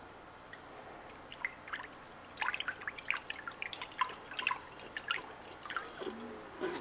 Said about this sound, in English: the funny thing is when you add the water to the yeast